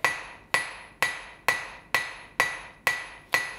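A hammer strikes a leaf key-chain being forged, eight loud, ringing blows at an even pace of roughly two per second, each decaying before the next.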